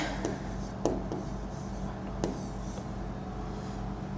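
Chalk or marker writing on a board during a botany lecture, faint intermittent scratchy strokes over a constant room hum, with no talk.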